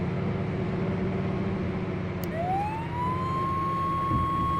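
An emergency vehicle siren in the driving game Flashing Lights rises and holds a steady wail over a continuous engine and road rumble, moderately loud with no talk.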